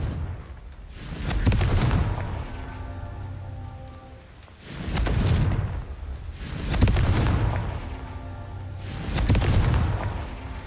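Confringo spell blasts in a wizarding game, three or four heavy booming bursts spaced a few seconds apart, each swelling and fading with a rumbling tail, with no voice over them.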